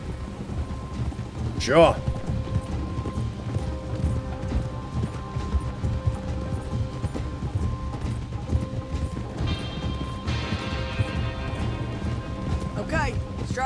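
Hooves clip-clopping from horses in Red Dead Redemption II, steady under rainy outdoor ambience, with a voice speaking briefly and two sharp tonal swoops rising above the mix.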